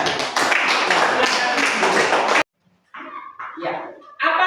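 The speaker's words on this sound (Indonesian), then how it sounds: "Kita beri tepuk tangan untuk teman kita." A classroom of primary school children claps together in a dense burst of hand claps. The claps stop abruptly, and after a short silence a teacher starts talking.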